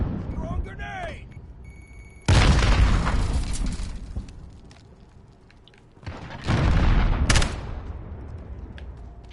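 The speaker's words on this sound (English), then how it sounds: "Throwing grenade!" Grenade blasts in the shooter game Modern Warfare Beta, two loud booming explosions that roll off into rumble, with gunfire and game voices in between.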